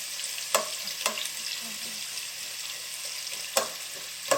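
Sliced onions frying in oil in a pan for a Thalassery-style chicken dum biryani, a steady crackling sizzle close by with a few sharp louder pops or stirs scattered through, no talking.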